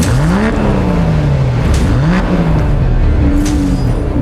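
Brabus Bodo, a 1,000 hp Aston Martin Vanquish-based hyper GT coupe, its engine loud and close, revving up and down in repeated rising sweeps with a roaring exhaust and no talk.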